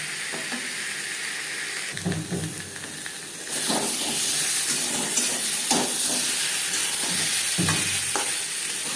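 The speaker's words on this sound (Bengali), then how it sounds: "লবণ হলুদ দিয়ে চার পাঁচ মিনিট আলু ভেজে নিয়েছি" Potatoes with salt and turmeric fry in a pan, a bright steady sizzle and hiss that swells louder partway through, broken by repeated scraping stirs up close.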